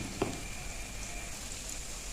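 Cabbage pakoras, cabbage fritters, deep frying in hot oil: a steady close crackling hiss with one brief louder pop near the start and no voices.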